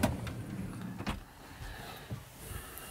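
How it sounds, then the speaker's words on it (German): Drawers in a camper van being pulled open, giving a few soft sliding and knocking mechanical sounds, quiet and close, with no speech. "die Schubladen."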